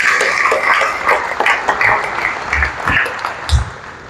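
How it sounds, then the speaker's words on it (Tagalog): Clapping from a church congregation, jokingly likened to people swatting mosquitoes, loose scattered claps in a medium-sized room with a few louder, sharper slaps standing out near the end. "Yun po yung palakpak ng mga nagpapatay ng lamok"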